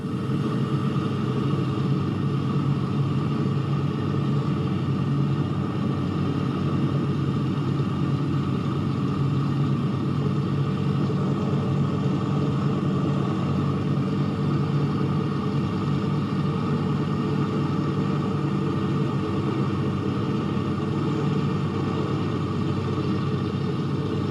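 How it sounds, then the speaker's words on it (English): Roaring piston engines of WWII bombers flying over the quiet English countryside, a steady, dense drone that holds at an even, fairly loud level throughout with no voices. "Only the roaring engine sound of the bombers pounding through the quiet English countryside."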